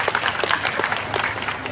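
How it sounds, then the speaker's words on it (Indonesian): Audience applause for Kabupaten Rohul at a religious talk, a steady wash of many hands clapping at moderate distance with no break. "Tepuk tangan dulu dong buat Kabupaten Rohul."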